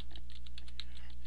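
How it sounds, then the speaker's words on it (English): Fingers type quickly on a computer keyboard, a close, crisp patter of about a dozen key clicks over a low steady hum, with no talking. "that is the sound of typing"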